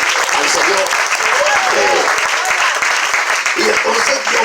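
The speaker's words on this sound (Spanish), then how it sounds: "Dale fuerte ese aplauso al Señor." Enthusiastic clapping from a church congregation at a Spanish-language sermon fills the space, steady and fairly loud, while a preacher keeps speaking over it.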